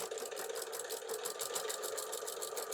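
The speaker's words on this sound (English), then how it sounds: "we're going to start with our basting stitch, which is going to join all our layers together just to hold them in place" A sewing machine runs a basting stitch through apron layers, a quiet, fast and even mechanical whir with a regular stitching pulse that continues without a break.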